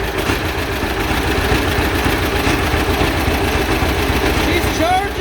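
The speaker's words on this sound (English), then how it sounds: "Now we're going to try to start the tractor." Vintage John Deere A tractor engine cranking over and running steadily throughout, a loud continuous mechanical chugging with heavy low rumble and no pauses.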